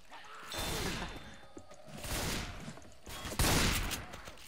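Bursts of gunfire from Francis's weapon in Left 4 Dead 2, with three rough, noisy volleys separated by short gaps, the last one sharper and louder.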